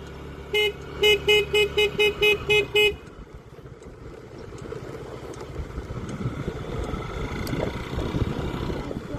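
A vehicle horn gives a quick run of about eight short, evenly spaced honks. A road-traffic and engine rumble follows and grows louder, with no talking.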